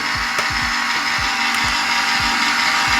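An electric mixer whirs steadily as buttermilk is beaten into red velvet cake batter, its continuous high drone broken by regular soft thumps from the beaters.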